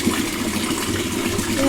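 A lemon cleaning liquid is mixed into water for washing brass pooja items. The sound is a steady, close gushing and sloshing of water that runs without a break.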